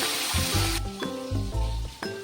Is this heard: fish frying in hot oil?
yes